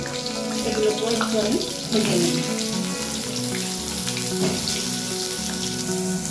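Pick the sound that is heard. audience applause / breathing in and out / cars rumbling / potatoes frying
potatoes frying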